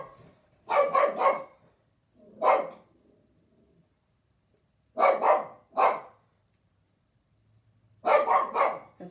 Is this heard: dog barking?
yes